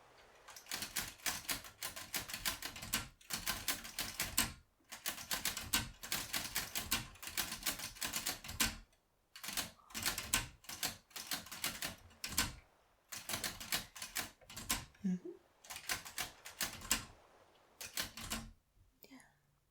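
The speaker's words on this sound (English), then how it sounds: "I know I'm a bit of a fast typer" Rapid typewriter keystrokes clatter in dense bursts with brief pauses, close and crisp, as a novelist types by the seaside; soft talk is heard between the runs of typing.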